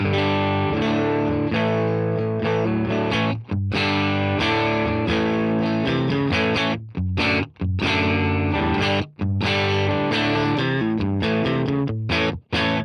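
Distorted electric guitar chords strummed in a driving rhythm through a PRS DGT guitar in tapped mode and an amp modeler, with brief pauses and gaps between phrases.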